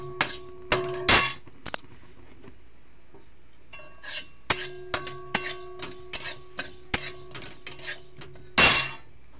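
Black cumin dry-roasted in a hot wok, heard as sharp metallic clinks and scraping strokes of a spatula against the pan, coming in irregular bursts with quiet gaps between.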